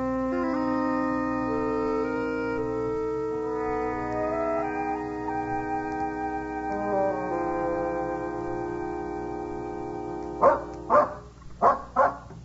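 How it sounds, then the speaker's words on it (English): Several sharp dog barks in quick succession ring out near the end, following a stretch of sustained orchestral music; the barks are loud and close. "That dog is definitely leading us somewhere."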